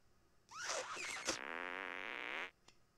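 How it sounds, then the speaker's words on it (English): A cartoonish fart attack in the South Park: The Stick of Truth video game, a loud buzzing, squealing burst that starts with warbling tones and holds as a steady raspy blast for about two seconds before stopping. "Try and fart on me."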